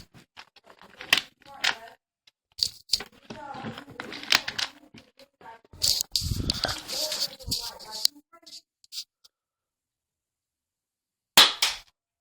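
A BB gun fires pellets that strike a target, giving sharp snapping cracks spaced among excited spoken counting, with a final loud smack after a quiet gap.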